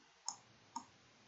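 Computer mouse clicking during graphic design work, two crisp separate clicks about half a second apart in an otherwise quiet room.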